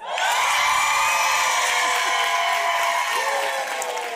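An audience at a live talk show recording aboard a cruise claps and cheers together, a sustained wash of applause with whoops and shouts, loud and close throughout.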